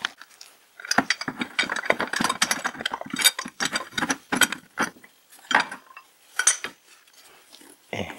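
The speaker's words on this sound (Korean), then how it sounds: "엔진 블락에 있는 거, 볼트 3개로 고정되어 있습니다. 15mm인데, 그냥 제가 빼고" A hand ratchet clicks in quick irregular bursts while three 15mm engine mount bolts come off the engine block of a Chevrolet Cruze 1.4 turbo, with metallic rattles between strokes.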